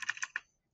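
Short run of four quick keystrokes on a computer keyboard, close and crisp, then silence, with no talking.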